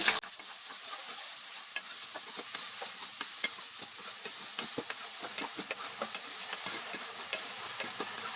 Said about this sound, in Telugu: టమాటాలు మగ్గుతున్నాయి కదా